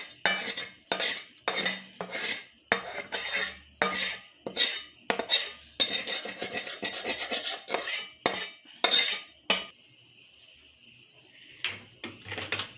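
Cooked millet (bhagar) dough being scraped out of a pan onto a plate: a long run of rhythmic metal scrapes and clinks from a spoon against the pan, close and loud, followed by a quieter pause.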